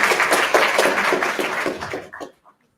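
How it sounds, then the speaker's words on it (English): An audience claps together at a speaker's forum, a dense, steady burst of applause that thins out and stops after about two seconds. "can we clap again for Libby?"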